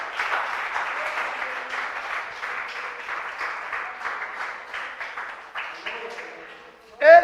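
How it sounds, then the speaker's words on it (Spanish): A church congregation claps steadily during a Spanish-language Bible study service, an even run of many hands that thins near the end before a louder burst at the close. "denle un aplauso a Él si usted quiere"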